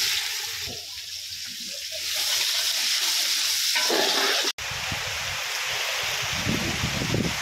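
Onions frying in oil in a home kitchen pan, a steady loud sizzle with stirring scrapes, briefly cut off midway and then resuming strongly.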